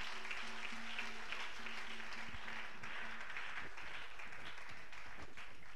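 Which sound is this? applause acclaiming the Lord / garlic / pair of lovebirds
applause acclaiming the Lord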